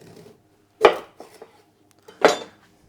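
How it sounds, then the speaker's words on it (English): Knife cutting the white part of a vegetable on a cutting board during kitchen meal prep, two sharp close chops about a second and a half apart with light scraping between. "just cut the white part up."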